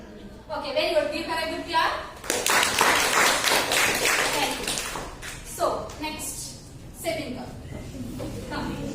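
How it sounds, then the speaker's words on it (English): A small group claps for a student in a classroom induction session, a short burst of hand claps in the middle, with voices speaking before and after and some shuffling. "Give her a good clap."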